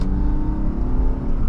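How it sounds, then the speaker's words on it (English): A 1997 BMW 320i M-Sport Touring engine revs while driving, a loud steady droning hum with a smooth tonal whine, heard close from inside the car with no talking. "You can feel the engine revving through the steering wheel."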